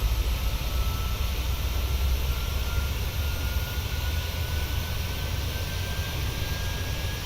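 A Boeing 737-800's jet engines spool up for takeoff in Microsoft Flight Simulator 2020, a loud, steady broadband roar with a low rumble and a faint rising whine, constant throughout with no talking.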